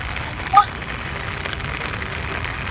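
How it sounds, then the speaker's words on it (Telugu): Steady rain falls in KBR Park in Hyderabad, an even hiss of drops close to the microphone, with one brief sharp knock near the start and no clear talking. "ఒక పక్క వర్షం, ఒక పక్క వర్షంలో ఎక్సర్సైజ్."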